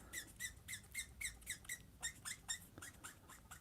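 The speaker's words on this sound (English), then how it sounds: "You can hear that squeaking there." Squeaky strokes of a Copic marker in warm gray nearly out of ink, drawn across paper while coloring superhero muscles; about a dozen short, rhythmic close squeaks in quick succession.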